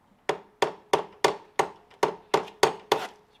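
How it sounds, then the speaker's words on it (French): A hammer bangs on a motorcycle part in a home workshop, landing nine sharp, evenly spaced blows about a third of a second apart. Each strike is close, moderately loud and rings briefly before the next. "Marteau, boum boum. Comme ça, boum boum."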